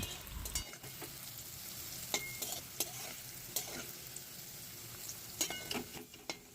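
Bitter gourd pieces frying in hot oil: a steady background sizzle broken by scattered sharp clinks and scrapes of a utensil against the pan, fairly quiet, no voices.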